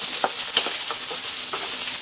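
Garlic, onion, ginger and tomato sauté in a hot pan for a Kapampangan dish, a loud, continuous sizzle with scattered stirring scrapes and soft knocks running throughout.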